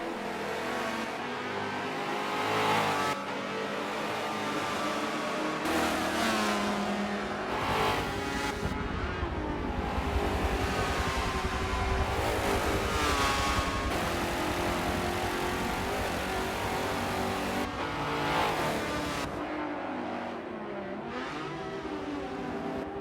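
Race cars in a racing video game, including a Nissan 300ZX Turbo, rev loudly and roar continuously through repeated gear shifts and acceleration, with occasional tire squeal, no voices.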